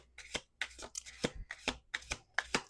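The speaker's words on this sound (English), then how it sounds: "Last shuffle." Tarot cards are shuffled in quick riffling bursts, five or six crisp rustles in a row, close and fairly quiet.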